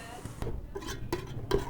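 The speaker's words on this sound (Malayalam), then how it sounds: "അപ്പോൾ ദേ ഇതെല്ലാം കൂടെ ഒന്ന് ഇളക്കി എടുക്കാൻ പോകുന്നത്." Eggs being stirred into tomato rice in a pan: a utensil scraping and clinking against the metal in a few quick, irregular strokes, close and moderately loud, with a soft sizzle underneath.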